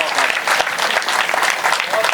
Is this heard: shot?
no